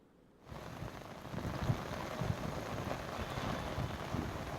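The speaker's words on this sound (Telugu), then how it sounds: "ప్రకాష్ నగర్, మియాపూర్, చందానగర్ తదితర ప్రాంతాల్లో వర్షం కురుస్తోంది." Heavy rain pours steadily over Hyderabad in a continuous dense hiss, beginning abruptly after a brief quiet moment, with scattered louder drops and splashes rising through the downpour.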